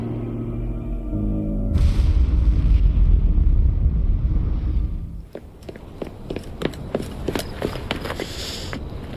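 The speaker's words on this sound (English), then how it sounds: "What was that explosion?" A large explosion in the video game Assassin's Creed Syndicate, a loud sustained low rumble that cuts off sharply, followed by scattered crackling debris and clatter.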